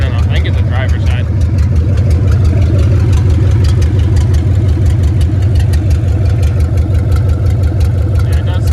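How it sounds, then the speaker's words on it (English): A Chevrolet C3500HD pickup idles with a misfire, giving a loud, uneven, lumpy chugging with irregular ticks throughout, heard close up with voices talking over it. "it's still misfiring"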